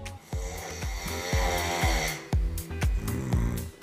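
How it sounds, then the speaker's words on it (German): A man snores loudly at close range in a regular rhythm, about eight rasping, throaty breaths in quick succession, with no talking. "Schnarchender Albtraum vieler Deutscher"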